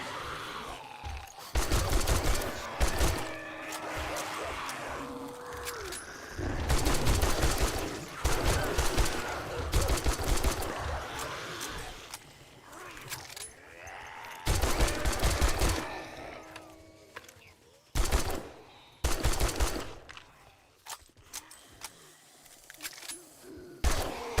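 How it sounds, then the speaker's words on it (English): Machine gun fire in the survival game 7 Days To Die: repeated loud, rapid bursts of automatic shots, each lasting a second or two, separated by short gaps. "machine guns are so good, though"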